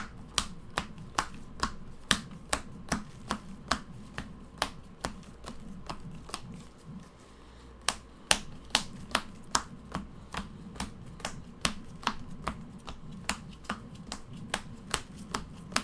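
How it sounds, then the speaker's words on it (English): Magic: The Gathering cards being pile shuffled during an old-school tabletop game, a long run of crisp, evenly spaced slaps as each card lands on a pile, close and steady, with a brief pause midway. "So I'm going to do a quick pile shuffle."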